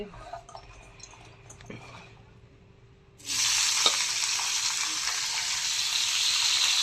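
Cauliflower frying in a pan: after a quiet stretch with faint kitchen clinks and some low voices, a loud, steady hiss of sizzling oil abruptly starts and continues to the end.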